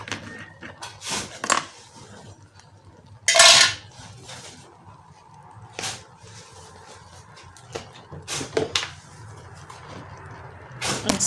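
Eggplants and holy basil dropped into a cooking pot, with several sharp clanks and clatters of metal and utensils separated by quieter gaps.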